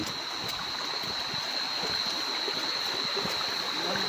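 Steady broadband rush of a river flowing past its bank in a rural barangay, continuous and fairly close, with no talk over it.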